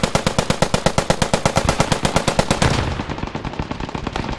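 Automatic weapon gunfire in the World War II shooter game Post Scriptum, a rapid steady burst of sharp evenly spaced shots lasting over two seconds, then continued fainter firing and battle noise.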